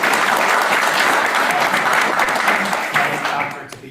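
Enthusiastic applause from a panel discussion audience for Cynthia Hughes, a dense steady roar of clapping that stays loud throughout and tapers slightly at the end.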